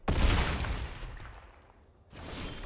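A Banefire spell cast for X of 8 in the Magic Arena card game lands with a loud, booming burst of fire that rumbles and fades, then a fresh surge of effect noise rises near the end.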